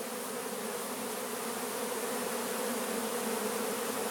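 Dense, continuous buzzing of many honey bees feeding, steady and close, filling the whole stretch with no voices.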